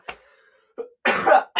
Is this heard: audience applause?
no